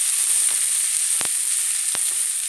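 Chopped bitter melon (karela) sizzles steadily in a hot pan, a constant bright frying hiss with two sharp spatter pops, no talk.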